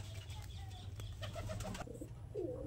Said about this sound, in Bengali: এখন কিছু মালবাহী পায়রা শখ করাবো